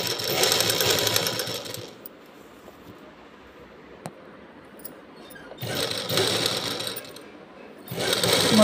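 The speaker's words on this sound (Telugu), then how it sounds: "ఇలా మొత్తం కుట్టేయాలి." A sewing machine stitches a blouse round neck in close, loud, rapid runs: a long burst, a quiet pause, and then two more bursts.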